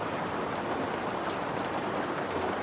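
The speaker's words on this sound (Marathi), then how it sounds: "मोठा पाऊस चालू आहे" Heavy village rain pours down in a dense, even hiss, steady and close throughout with no pauses and no voices.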